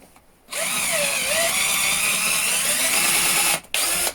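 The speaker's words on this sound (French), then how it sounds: "on va dire qu'on va percer un trou ici" A power drill bores a hole into a wooden board, a loud continuous whine that starts abruptly, holds steady for about three seconds with slight pitch wavering, then briefly cuts out and restarts.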